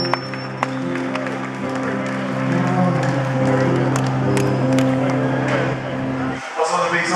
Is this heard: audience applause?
yes